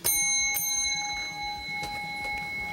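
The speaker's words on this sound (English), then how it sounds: "Since it's 2, you get 2 bell rings." A bell rings twice in quick succession, two bright, close strikes about half a second apart, each leaving a clear ringing tone that fades slowly.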